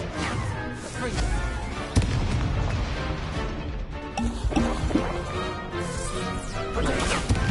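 Confringo blasting spells from Hogwarts Legacy erupting in dense, continuous booms and crashes with music-like tones underneath, a sharp hit near two seconds and repeated heavy impacts throughout, loud and close.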